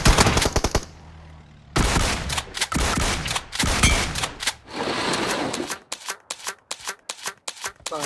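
Rapid bursts of automatic gunfire in the game BGMI crackle in loud volleys, then break into shorter sharp shots spaced apart toward the end.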